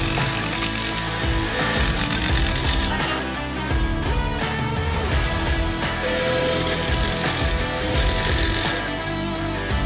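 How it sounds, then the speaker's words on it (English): A rented angular chisel hammer breaks up bathroom floor tile, loud close rattling bursts of rapid hammering in several runs separated by short pauses, with a high whine rising during the bursts. "I got this angular chisel, I got this locked into place, and all it does is it just sits there and just hammers this stuff"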